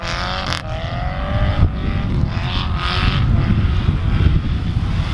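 A Subaru car slides around on snow, its engine roaring loud and close with a rising, revving whine over a constant rumble of tires churning through the snow.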